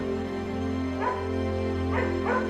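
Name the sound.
cartoon dog barking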